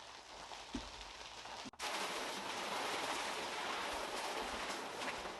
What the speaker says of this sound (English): Now you tell me a garden hose sprayer can't foam.